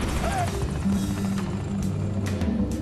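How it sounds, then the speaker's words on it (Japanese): Helicopter rotor and engine drone in the shooter Wolfenstein: The New Order, a steady whirring hum running throughout with game sounds and faint talk over it. "これ探知できないヘリなんですよね。"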